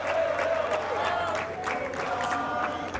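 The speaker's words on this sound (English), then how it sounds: "British fans in the crowd applauding that effort by Tim Henman" Tennis fans at a Toronto grandstand court applaud a point in a 2004 men's second-round match, producing a steady patter of clapping from a sizable crowd, with a voice audible under it.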